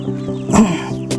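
A Bulik Talisay gamefowl hen gives a short cluck nearby, brief and abrupt, over a steady low hum in the background.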